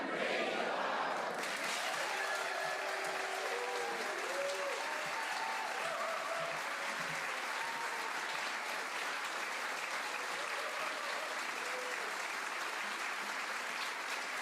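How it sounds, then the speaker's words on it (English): Studio audience applauding at a live radio show taping, sustained dense clapping with cheers and whoops throughout, preceded by a brief voice at the start. "stare at the sign and just applaud"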